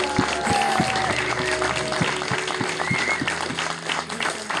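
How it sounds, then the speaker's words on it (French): A studio audience on a French talk show claps steadily and loudly, with faint musical tones running beneath the applause. "vous pouvez vous applaudir"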